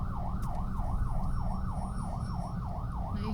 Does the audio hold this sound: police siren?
yes